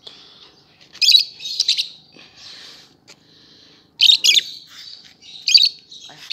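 Pet lovebirds, hand-tamed and kept indoors, give shrill bursts of chirps and squeaky tweets in several short clusters, with quieter twittering in between.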